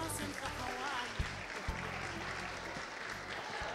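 An audience at a summer stage event claps to welcome the artist OMG, a steady mass of applause filling the clip while voices talk and call out over it.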